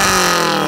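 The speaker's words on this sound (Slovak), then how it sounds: "Poďme troška pridávať." BMW E30 engine with a leaky exhaust, a brief loud burst of revving, close and raspy, holding steady without any talk.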